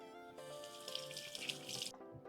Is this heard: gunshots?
no